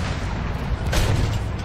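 Cannon fire from a front-mounted gun in the World War I shooter game Battlefield 1, a loud continuous low booming rumble with a sharper burst near the middle and no talking.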